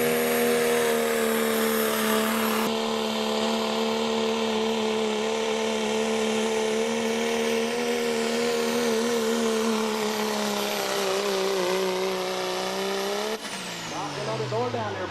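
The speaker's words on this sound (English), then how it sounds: "Spooling that Dodge Cummins up and taking off." A Dodge Cummins pulling truck at a truck and tractor pull spools up with a loud, sustained diesel roar and a steady whine, then shifts sharply and rises in pitch as it takes off.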